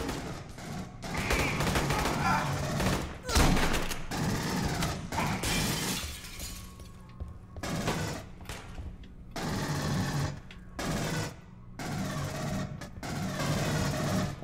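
Heavy automatic gunfire in Aliens: Colonial Marines, long rapid bursts broken by short pauses, loud and close, with sharp cracking impacts and shattering among the shots.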